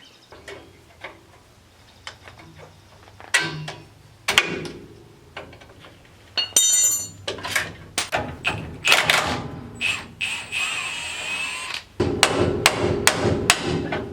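Sharp metal hammer blows strike a Harbor Freight brake tool while working on a ball joint during a 1963-70 C20 disc brake conversion: irregular, close clanks and knocks, with a dense, rapid run of strikes near the end.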